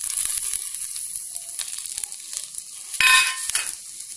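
Curry leaves and grated coconut drop into a hot oiled pan while fenugreek pongal is being made, giving a steady close sizzle and crackle with a louder burst of spitting near the end.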